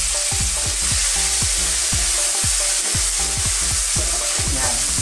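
Tomatoes sautéing in a pan for halabos na hipon, a Filipino stir-fried shrimp dish: a loud, steady sizzle runs throughout with stirring scrapes and clicks, and no voices.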